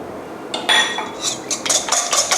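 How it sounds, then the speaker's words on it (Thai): Metal utensil clinking and scraping against a bowl while an egg mixture seasoned with pepper, oyster sauce and fish sauce is beaten for Thai steamed eggs, a few quick rapid bursts of close tapping. "ตีให้เข้ากันนะคะ"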